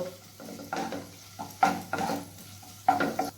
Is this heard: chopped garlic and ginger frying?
yes